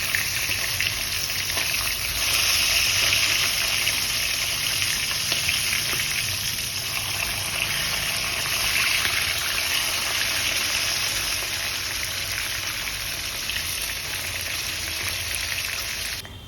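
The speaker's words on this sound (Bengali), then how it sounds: "সেই মাছ দুটোকেও কড়াইয়ে ভেজে নিচ্ছি কড়াইয়ের তেলে।" Chitol fish fry in hot oil in a kadai, a steady close sizzle and crackle that holds loud and even throughout, with no talk over it.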